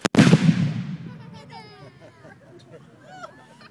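A soldier's musket fires once in an outdoor drill, a loud sharp blast up front whose boom rolls away over about a second, followed by crowd and children's voices chattering.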